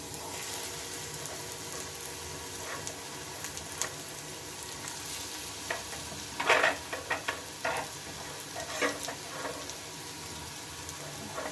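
Potatoes being stirred and mixed into a spice paste in a hot pan for a potato and egg dish, with a steady frying sizzle and irregular scraping and clinking of the spoon, strongest midway through; no talking.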